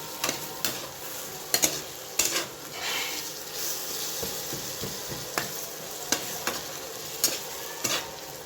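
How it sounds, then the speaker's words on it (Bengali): Tomato fries lightly with spices in a pan, a soft low sizzle punctuated by sharp, irregular clacks of a spoon stirring against the metal, close and fairly quiet. "টমেটোটা আমরা হালকাই ভেজে টমেটোটিকে আমরা এর সঙ্গে একটু মিশিয়ে নিচ্ছি"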